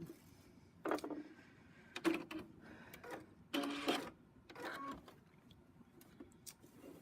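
A sewing machine with a 1/4 inch foot stitches pieced quilt sections together in short bursts of whirring, separated by quiet pauses.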